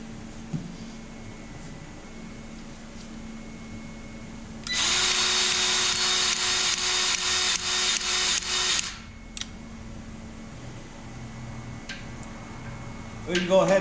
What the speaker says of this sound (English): I know that bottom fitting there is going to take about 10 pumps worth of grease